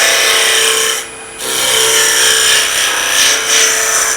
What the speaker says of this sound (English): That's a planing cut.